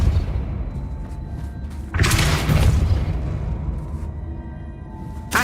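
A single Depulso spell blast in the video game Hogwarts Legacy, a sudden booming thump with a roaring wash that fades over about a second, followed by low ambience and a faint second onset at the end.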